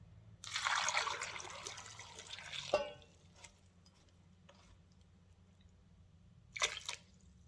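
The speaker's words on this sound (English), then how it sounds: "To this I'm going to add some water." Water pours into a pot of sweet potatoes for about two seconds, a splashing gush that ends abruptly, followed by faint drips and a short second pour near the end.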